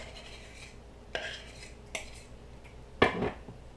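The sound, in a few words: mixing coconut oil into a grease patty mixture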